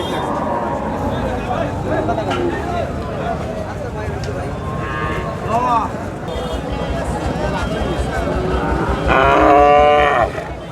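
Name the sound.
cattle mooing at a cattle market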